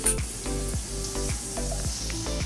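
Garlic frying in hot oil for a home-style chicken fry, a steady close sizzle with faint crackles throughout.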